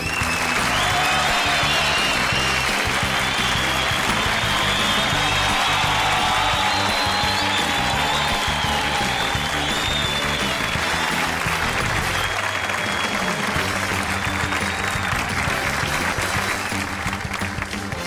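Loud, sustained studio audience applause welcomes a guest on a Colombian comedy show, a continuous wash of clapping running for many seconds with music and some voices underneath.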